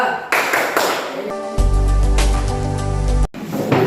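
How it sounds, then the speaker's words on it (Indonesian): Students in a classroom perform the rhythmic PPK clap in unison, a brisk run of sharp, closely spaced claps and taps lasting a few seconds, with a faint tonal hum underneath. "Silakan lanjutkan dengan tepuk PPK."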